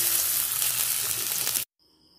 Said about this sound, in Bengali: এবারে দিয়ে দিচ্ছি পেঁয়াজ কুচানো।